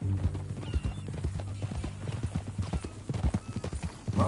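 Horse hooves clip-clop at a steady walking rhythm in Red Dead Redemption, close and distinct, with a brief whinny near the start and faint background ambience behind the footfalls.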